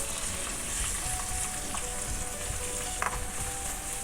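Three sliced onions sizzle in ghee in a pan as part of a Kerala-style fish biryani, giving a dense, continuous close-up hiss with a few faint crackles and no talking.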